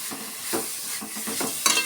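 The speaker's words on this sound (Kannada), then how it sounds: "ಸೇರಿಸಿ ಸ್ವಲ್ಪ ಕಲಸ್ಕೊಳ್ಳೋಣ ಚೆನ್ನಾಗಿ." Grated coconut and ground cardamom being stirred into hot jaggery for obbattu filling, a few soft scraping stirs spaced through a short burst with a faint sizzle underneath and no voices.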